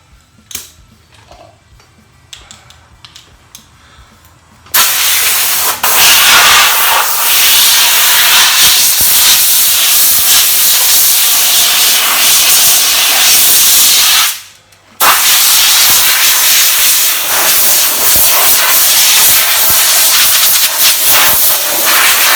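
Compressed air blows off a 1947 Ford street rod grille and bumper part in a workshop, a loud continuous hiss in two long blasts with a brief pause between, after a few quiet seconds of faint handling noise.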